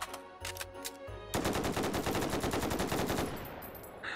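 AR-10 rifle firing in the VR game Hot Dogs, Horseshoes & Hand Grenades: a few separate shots, then a loud, fast burst of rapid fire lasting about two seconds before fading into room tone.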